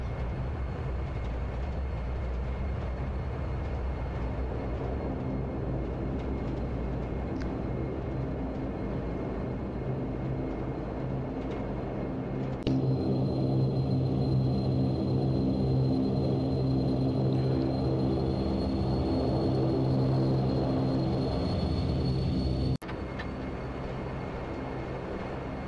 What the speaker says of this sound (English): We'll get the aircraft flipped around and get going shortly.